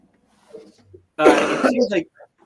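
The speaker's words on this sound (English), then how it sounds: "I'm busy coughing." A single hard, loud cough burst, close up, following some quiet murmuring and a throat noise; a brief faint sound trails after.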